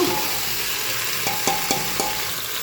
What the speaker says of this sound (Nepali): यसलाई अलि यस्तो मजाले चलाउने। एकछिन भुट्ने मजासँग।